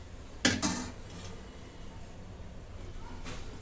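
A metal kadhai set down on a gas stove in a home kitchen, two quick close clanks followed by quiet background hiss.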